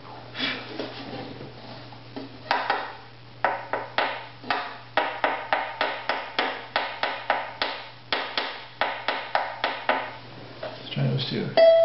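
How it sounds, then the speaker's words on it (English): Pocket knife scraping an instrument bridge in a steady series of short, rhythmic strokes, each a brief rasp repeated evenly and close up, ending with a faint tonal ping. "Now I'm going to bring my pocket knife and just scrape that area."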